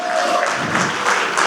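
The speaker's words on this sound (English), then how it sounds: "Applaud a little, no?" An audience at a Web3 conference panel in Goa claps steadily, a dense, continuous wash of applause filling the room.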